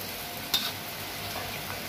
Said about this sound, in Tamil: நம்மளோட வெங்காயம், கருவேப்பிலை, இஞ்சி பூண்டு எல்லாமே நல்லா வதங்கி